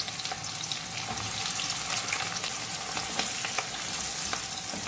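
Onions dropped into hot oil crackle and sizzle in a dense, continuous fry, with small pops and the occasional scrape of a stirring utensil, and no talking.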